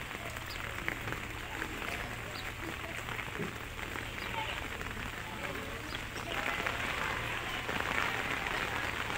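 Heavy rain pouring steadily onto streets and roofs in Madhya Pradesh, a dense unbroken hiss of drops without pause, slightly stronger toward the end.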